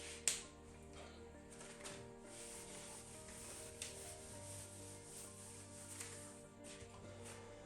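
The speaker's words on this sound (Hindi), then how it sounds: "मैं इसको रब करने वाला हूं" An eraser wipes a classroom board, producing a faint, steady rubbing scrape with a few light taps, and no one speaks.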